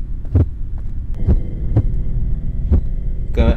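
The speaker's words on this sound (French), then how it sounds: "Retiens tes battements de cœur." A deep, thumping heartbeat effect from the horror game Trollge Incident pulses at a slow, uneven pace under a low droning hum, loud and close, with a brief rattling noise at the end.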